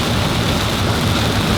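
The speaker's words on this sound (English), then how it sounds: "Raining cats and dogs over here in Ohio." Heavy rain comes down in Ohio as a loud, dense, unbroken hiss and patter that fills the whole stretch without letup.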